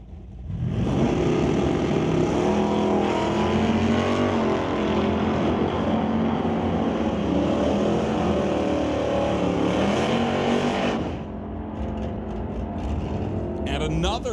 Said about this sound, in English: The Ritchie Racing Engines Nova dials in at 1034 compared to Schwartz for the Titanium Auto Group Bubba Speed Shop Monte Carlo